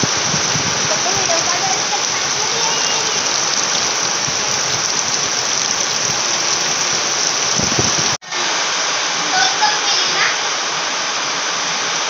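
Heavy monsoon rain pours down in a steady, loud hiss, briefly cut off and then resuming, with faint voices audible beneath the downpour.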